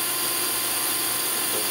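A loud, steady mechanical whir of a Tsugami BO326II CNC Swiss lathe as its sub spindle indexes, a continuous machine drone without speech.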